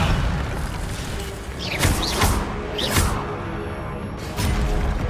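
Casting the Levioso spell in the Hogwarts Legacy video game brings a few sharp magical whooshes and rising shimmery sweeps over a dense, rumbling game soundscape, with a low boom and clattering effects throughout.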